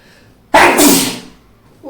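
One loud, sharp human sneeze bursts out after a quiet moment during a sneezing challenge, trailing off over about a second before a faint breath follows.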